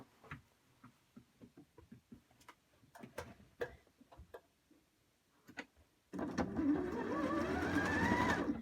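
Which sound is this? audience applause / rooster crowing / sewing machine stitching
sewing machine stitching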